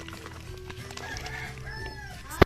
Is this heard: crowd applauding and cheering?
no